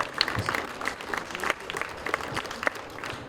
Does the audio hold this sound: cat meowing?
no